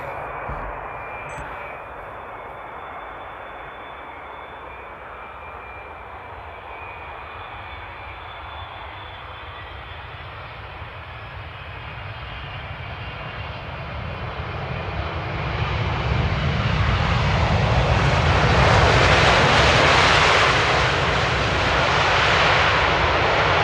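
A 15-year-old KLM Boeing 777-300 lands at Amsterdam Airport in rain after a ten-hour flight. Its steady jet roar rises over continuous rain hiss and swells louder and closer toward the end, with no talk.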